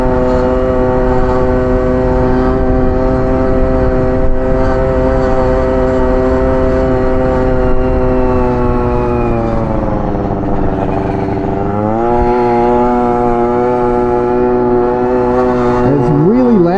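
A tuned scooter engine runs loud and rough while its carburetor main jet is being adjusted, holding a steady harmonic drone that dips and rises as the revs change, with a sharp warble near the end.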